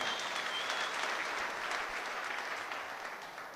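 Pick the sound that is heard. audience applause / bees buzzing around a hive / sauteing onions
audience applause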